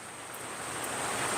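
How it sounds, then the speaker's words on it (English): Rushing floodwater from a flash flood in the Great Smoky Mountains around Pigeon Forge, a brief, steady broadband roar of racing water. "this water is insanely racing"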